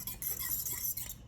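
Spoon stirring orange juice and butter around a pan, a steady scraping swirl with faint clinks, close and continuous.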